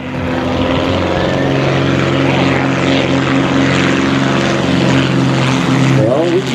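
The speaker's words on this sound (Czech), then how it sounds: "Ten Zlín, to je dvoumístný sportovní a cvičný letoun československé výroby" A Czechoslovak Zlín two-seat sport and trainer plane flies past at a military-technology day in Rokycany, its propeller engine a loud, steady droning roar that holds throughout, with a slight rise in pitch near the end.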